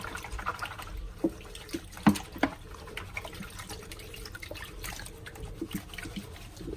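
Gold-bearing gravel being panned in water in a kitchen sink, with a steady watery trickle, soft sloshing and a few sharp clinks of stones against the pan, close by.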